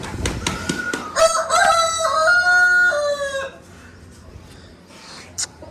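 A desi (native breed) rooster crows once, loud and close, a long drawn-out call after a few scuffling sounds, followed by quieter background.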